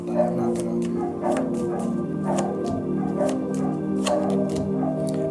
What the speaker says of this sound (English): someone needs to get their dogs